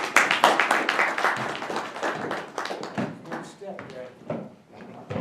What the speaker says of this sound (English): I want y'all to give him a great round of applause